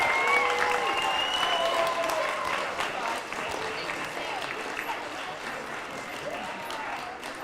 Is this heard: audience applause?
yes